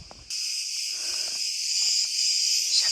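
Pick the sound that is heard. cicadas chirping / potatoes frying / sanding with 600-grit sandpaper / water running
cicadas chirping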